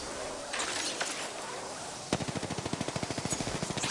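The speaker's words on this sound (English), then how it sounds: "I am taking fire, friends" Rapid automatic gunfire in the battle royale shooter Apex Legends, a loud burst of evenly spaced shots over a steady game soundscape, preceded by a few scattered single reports.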